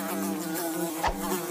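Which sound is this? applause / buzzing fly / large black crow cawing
buzzing fly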